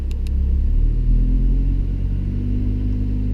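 A 2016 Lamborghini Huracan Spyder sits stationary in Corsa mode, its exhaust rumbling low and loud with the revs building slightly, heard close up from inside the car with no talking.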